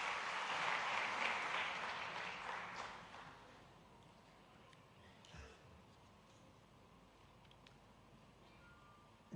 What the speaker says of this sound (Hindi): आइए जोरदार तालियों से अभिनंदन करें।